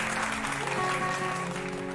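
Audience applause at a ghazal concert, a steady dense clatter of clapping held at even loudness, with a sustained musical tone running underneath.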